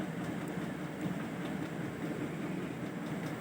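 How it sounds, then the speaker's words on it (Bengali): Mushrooms frying on high flame in a pan for a vegetarian curry, giving a steady, dense sizzle that stays even and fairly loud throughout, with no voices. "এবার আমি হাই ফ্লেমে 5 থেকে 7 মিনিট ধরে মাশরুমটাকে"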